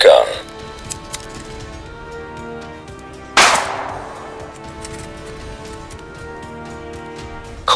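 A toy blaster gun fires one sharp, loud crack near the middle, trailing off in a short hissy decay. Faint clicks come earlier, and another burst starts right at the end.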